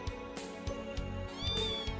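A cat meows in the video game Trails Into Reverie, a few short, clear, nearby calls rising in pitch, set over light background game sounds with no speech.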